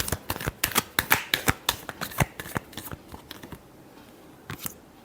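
A deck of tarot cards being shuffled, a quick run of crisp riffling snaps close up that thins out and fades toward the end.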